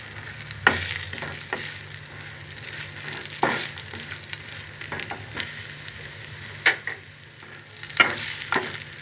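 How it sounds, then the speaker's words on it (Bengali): Nuts sizzle in hot ghee in a pan for payesh, a steady frying crackle broken by sharp stirring scrapes and clinks of a spoon, close and continuous. "এটাকে যখন ঘিয়ের মধ্যে ভাজা হবে, এটা দিয়ে খুব সুন্দর একটা অ্যারোমা বের হবে"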